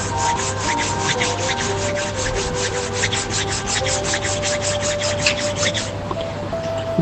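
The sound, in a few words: palms rubbing together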